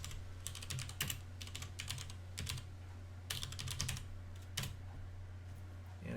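Quiet clusters of computer keyboard keystrokes as a command is typed, coming in short bursts separated by brief pauses, close and soft with a low background hum.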